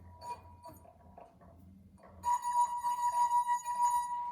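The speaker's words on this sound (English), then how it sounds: "Here I am going to create this natural frequency of this particular glass" A wine glass is rubbed at the rim until it sings at its natural frequency, a loud, sustained pure ringing tone with overtones that follows some quiet tapping and handling.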